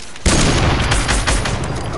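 Gunfire in a video game during a squads match, heavy sniper shots within a sustained burst of loud booming fire with quieter onset.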